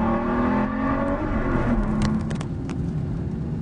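A 2011 Aston Martin V12 Vantage sports car revs and pulls away, its V12 exhaust note a rising, sustained throaty roar that fades slightly into the distance, heard close and without talk.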